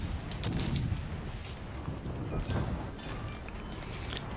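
Naval gun shells fired from a USS Worcester cruiser in World of Warships Legends, a continuous rumbling barrage of booms and rolling blasts, loud and dense throughout.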